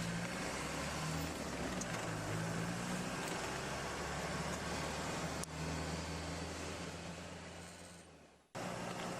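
Fast cars rushing past on a road, a steady close roar of tyres and engines that holds throughout, then drops away briefly near the end.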